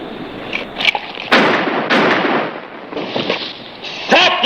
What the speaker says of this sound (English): Stop those guns!